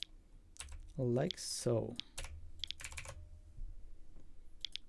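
Computer keyboard typing code, a few short clustered bursts of key clicks near the mic, with someone speaking briefly in between.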